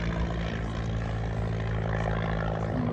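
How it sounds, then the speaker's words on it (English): A small propeller plane drones steadily overhead at a French car meet and racing day at Oulton Park, a constant engine hum with no talk. "Got a small plane flying over."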